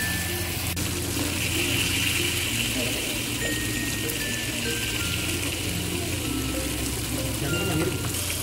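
Kuwe fish coated in yellow spice paste sizzles steadily on a grill while being pressed down, a continuous close crackle and hiss with a low background hum throughout.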